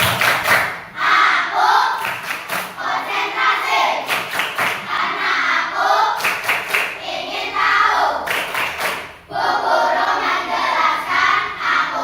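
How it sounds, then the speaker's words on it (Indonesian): A classroom of students performs a rhythmic concentration clap, with patterned bursts of loud claps alternating with chanted group voices in repeated cycles. "coba biar semangat tepuk konsentrasi"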